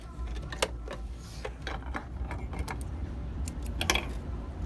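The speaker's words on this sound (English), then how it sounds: "Stitch all the way down using your guideline" A sewing machine stitches fabric along a pressed guideline for a mitered corner, its needle mechanism ticking and clattering in a steady close run over a low motor hum, with no talking.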